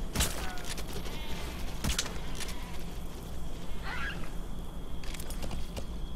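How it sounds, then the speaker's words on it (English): A sheep in Metal Gear Solid V: The Phantom Pain bleats a few times in short cries over a steady game ambience, with a sharp thump or crash near the start and a faint voice in the background. "Oh shit, I just ran over a sheep with my horse."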